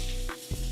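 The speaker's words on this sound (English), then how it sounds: "Start cooking the other side" Food sears in a hot pan just after being flipped: a loud, dense sizzle that drops away for a split second, then surges back.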